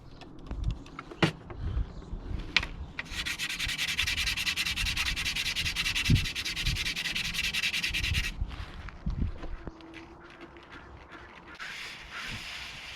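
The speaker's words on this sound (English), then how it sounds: "So what we're going to do is take the pads off and sand them" Hydraulic brake pads contaminated with mineral oil are sanded by hand, a steady scratchy rubbing that runs for several seconds close up, broken by a few sharp knocks and pauses before resuming.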